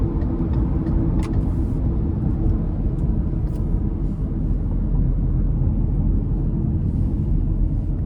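A 2017 Subaru Legacy 2.5 Limited pulls onto the interstate with a steady, loud low engine and road rumble heard from inside the cabin, with no talk.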